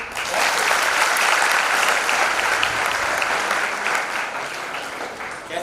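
Sustained, loud audience applause at a memorial tribute programme, a dense even wash of clapping that holds steady for several seconds.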